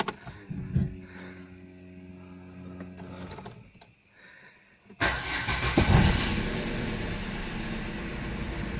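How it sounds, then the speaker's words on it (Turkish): A car engine is cranked and started, its whine and sputter followed by a quieter pause and then a sudden loud catch into a rough, rumbling idle that runs on steadily, close by. "Hadi biz arabamızı çalıştıralım."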